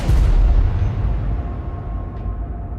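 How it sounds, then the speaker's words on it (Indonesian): A single gunshot fired at a man's head in a film, a heavy boom that opens loud and trails off into a long, low rumbling decay. "Seorang pengawal melancarkan tembakan ke arah kepala Ake"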